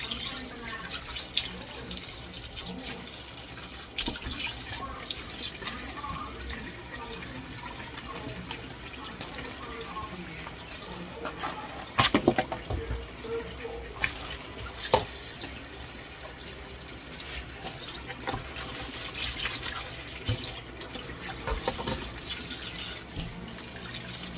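Water running from a tap while something is washed in a sink, a steady splashing flow with clatters and drips, close by, with a voice talking at times.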